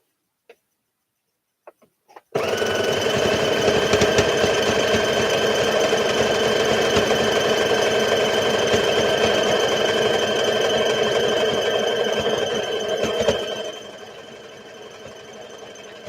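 Sewing machine running along the side seam of knit overalls, a few small clicks then a sustained rapid stitching drone, close and loud, easing to a softer hum near the end, no voices.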